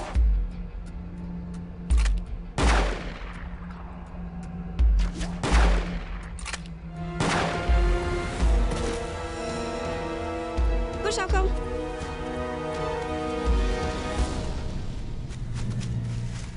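Gunshots ring out in a dramatic scene, several loud sharp reports spaced apart and then a denser burst, with a bullet striking a shell, mixed with shouting voices and tense music.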